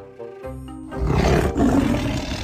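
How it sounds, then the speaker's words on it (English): A tiger gives a deep, loud roar at close range, one sustained rumbling bellow that swells, dips briefly and surges again, with no voices over it. "That noise is the tiger."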